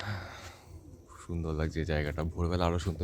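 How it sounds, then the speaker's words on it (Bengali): Birds call at dawn around a forest nature camp at Gurguripal, a few soft calls heard briefly before a person starts talking close by and the calls fade under the speech. "চারদিকে পাখির ডাক,"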